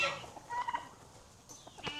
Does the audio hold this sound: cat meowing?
no